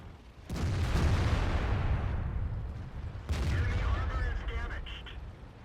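Tank cannon fire in World of Tanks from an FV4202, two heavy booming shots about three seconds apart, each with a long rumbling tail, the second followed by metallic ringing, loud and close.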